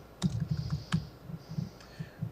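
Quick, uneven typing on a computer keyboard, with a couple of sharper clicks, close and fairly quiet, and no voices.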